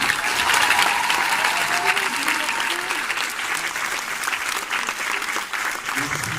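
Steady, dense applause from a large audience at a film premiere, sustained at an even level throughout, with some crowd voices mixed in.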